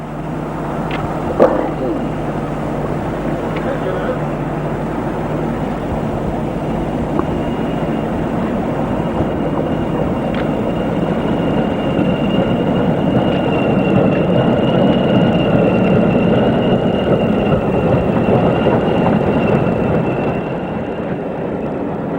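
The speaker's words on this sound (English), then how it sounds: "4099 passes Colton with a Blackpool to Newcastle train" British Rail Class 40 diesel locomotive passing Colton with a Blackpool to Newcastle train, a steady loud engine rumble with a droning tone that swells and then eases off.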